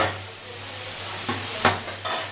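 Papaya and egg mixture sizzling in a hot pan while a spoon stirs it, a steady fry hiss broken by a few sharp scrapes and clinks of the utensil against the pan.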